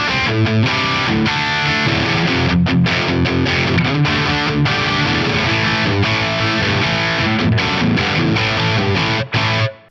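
Heavily distorted high-gain electric guitar through a Marshall-style amp with plate reverb, playing dense, loud, continuous riffs and chords that cut off abruptly at the end.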